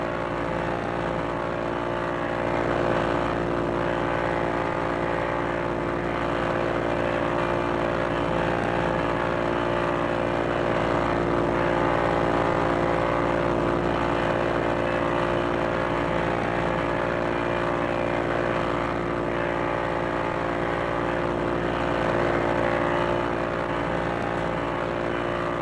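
A P-40E Warhawk WWII fighter's propeller engine drones steadily and loudly in a VR flight game over a bay, a constant close hum with no talk.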